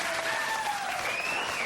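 Studio audience applause at a late-night television comedy show, a steady dense wash of clapping filling the whole moment, loud and close with no talk over it.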